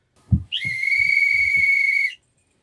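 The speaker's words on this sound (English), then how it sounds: "That's a little subdued whistle." A single steady, shrill whistle blast holds for over a second and a half, preceded and accompanied by a few soft low thumps.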